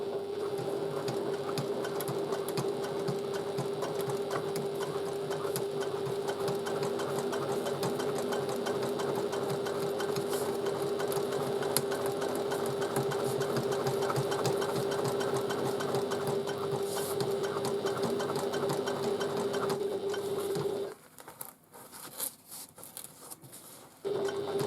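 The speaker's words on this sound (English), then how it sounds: "So we're stitching again at 3/8 of an inch seam allowance." A sewing machine with a zipper foot stitching piping onto a bag runs in a steady, close mechanical whir for about twenty seconds, then stops, leaving brief faint handling sounds.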